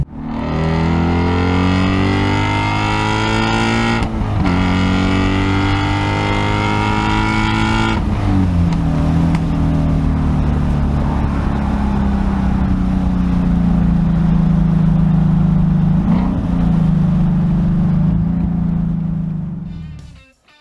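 A 2015–2020 Ford Mustang GT350 with an MBRP exhaust in sport mode revs hard in rising bursts, then pulls away and drives off with a loud, steady exhaust drone and a brief rev near the end.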